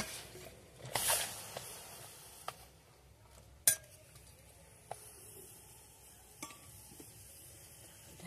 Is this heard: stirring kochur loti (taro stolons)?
yes